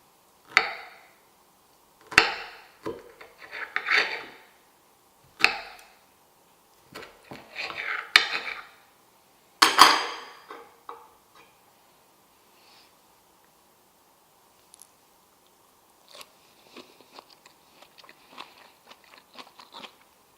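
Close, crisp crunching bites and chewing of dairy-free, eggless vegan stuffed zucchini with dill, coming in irregular bursts of several loud crunches, then quieter, scattered chewing clicks toward the end.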